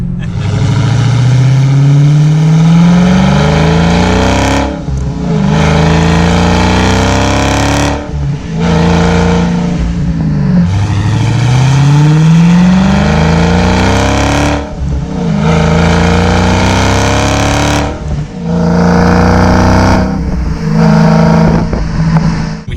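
Dodge Challenger SRT Hellcat with a six-speed manual accelerating hard through the gears: loud, close engine roar rising repeatedly in pitch, broken by brief dips at each shift.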